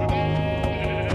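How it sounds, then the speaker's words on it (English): Sheep in the Minecraft video game give a couple of short, close bleats over a steady background hum. "there's a lamb. Or a sheep, freaking sheep"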